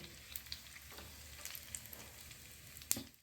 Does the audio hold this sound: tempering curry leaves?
yes